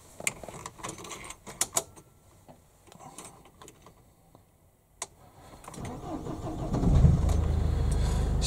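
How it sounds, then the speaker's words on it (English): Engine of a self-built camper van cranking and catching near the end, then settling into a steady idle after a few seconds of clicks and handling noises. "Now we'll just start the engine up."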